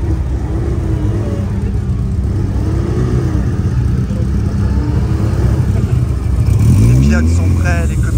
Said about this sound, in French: les voitures qui prennent place avant de franchir l'arche du départ